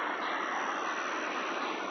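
A helicopter flying overhead, heard as a brief, steady broadband drone at moderate distance with no other sounds.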